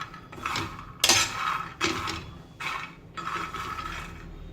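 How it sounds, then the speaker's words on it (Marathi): Peanuts roast in a pan over a low flame while being stirred, giving several distinct scraping and rattling passes of a spatula against the metal, separated by short pauses, no voices. "आता मंद आचेवर आपण 5 मिनिटं भाजून घेऊया."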